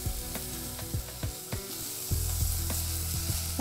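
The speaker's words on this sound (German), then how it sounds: "Wenig Öl in einer Pfanne warm werden lassen. Zwiebeln andämpfen und dann die Rüebli kurz mitdämpfen." Onions and carrots sautéing in a little warm oil in a pan, giving a steady close sizzle and frying hiss with occasional stirring clicks and scrapes, no voices.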